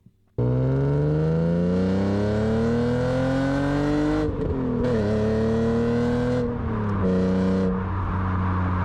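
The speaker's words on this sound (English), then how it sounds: "Driving that E36 M3 and that exhaust." A BMW E36 M3 accelerates hard under a loud aftermarket exhaust, its engine note climbing steadily through the revs, dipping briefly at shifts around the midpoint, then pulling again. Close, continuous and without any talk over it.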